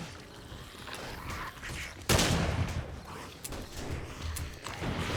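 A shotgun fired in the survival video game 7 Days to Die: one sharp, loud blast midway cuts through faint mechanical clatter, with brief rattling after it and no speech.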